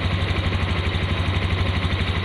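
A 2021 Honda Scoopy scooter engine idles steadily during RPM adjustment, giving a close, even, pulsing hum with a continuous low throb and no voices.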